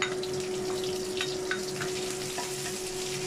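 Dried shrimp fry with garlic in a pan, a close, steady sizzle with occasional stirring scrapes and a faint constant hum in the background.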